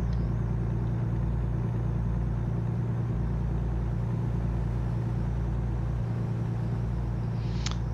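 Steady engine rumble of traffic cars on a quiet night road in American Truck Simulator, a continuous low drone with a faint whoosh of a vehicle going by near the end.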